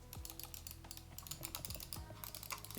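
Keys clicking on a Logitech G715 keyboard, a quick irregular run of light, crisp taps heard up close but at low volume, with no talking.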